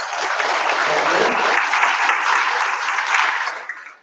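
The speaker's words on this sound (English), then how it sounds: "can we please give our panellists here today a special round of applause for the great panellists" A full audience applauds warmly for panellists at a Grow Qld community forum in Cloncurry, a steady dense clapping that holds for about four seconds before quickly tapering off.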